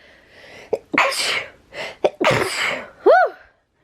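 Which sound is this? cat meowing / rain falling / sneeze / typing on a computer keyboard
sneeze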